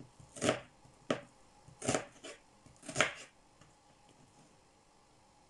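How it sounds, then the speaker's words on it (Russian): A knife cuts partially frozen meat into small cubes for homemade samsa-style puff-pastry meat pies, producing several sharp, irregularly spaced chopping strokes close by, with quieter scraping between them. "Видите, подмороженное, как оно режется хорошо."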